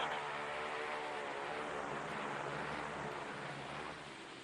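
Operation Highjump aircraft taking off in Antarctica to map the coast, a steady loud propeller engine roar that holds constant throughout, with a slight drop near the end.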